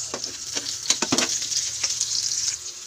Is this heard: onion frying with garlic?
yes